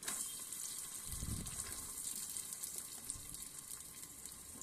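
Chopped onions sizzle in about five spoonfuls of hot oil for a Kannada-style cauliflower sukka, a steady close frying hiss with a couple of louder low bursts as pieces hit the pan.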